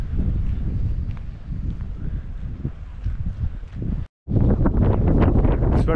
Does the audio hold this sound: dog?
no